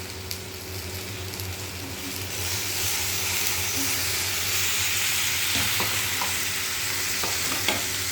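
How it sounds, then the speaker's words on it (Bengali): Chopped tomatoes sizzle and fry in a pan while being stirred, a close, continuous crackling hiss with occasional scraping clicks of the utensil, no voices over it. "টমেটো কুচিগুলো দিয়ে দেবো"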